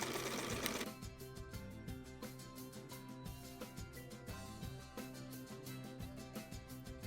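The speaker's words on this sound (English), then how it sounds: "Sometimes it's easiest to stitch a channel for the plastic to go through and then take it off the machine" A sewing machine stitches a channel in a slouchy fabric basket, running steadily with a rapid, rhythmic mechanical clatter close up, after a brief noisy start, without voices.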